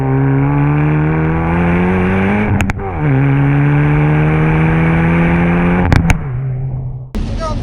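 Hyundai i30N hot hatch engine held at a loud, steady rev, its exhaust note dipping briefly twice, with sharp crackling pops and bangs breaking in near the end.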